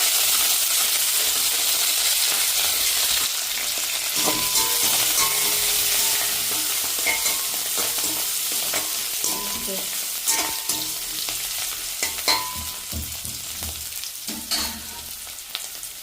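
Onions and green chillies fry in a pan with a steady, close sizzle, broken by scraping and metallic clinks as a spoon stirs, fading somewhat toward the end.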